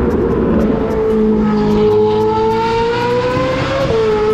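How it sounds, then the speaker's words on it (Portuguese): A car accelerates hard past on a street, its engine note loud and close, rising steadily in pitch as it revs, with no speech. "acelerando mesmo"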